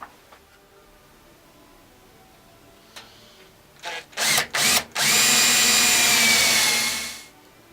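A power drill whirs in a few short bursts, then runs in one long, loud steady whine before stopping, close by, drilling into wood to fit dowels.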